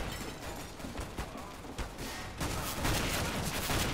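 Gunfire from a Mag 7 shotgun in CS:GO, a burst of sharp, dense shots with game noise, loud and close, growing busier toward the end.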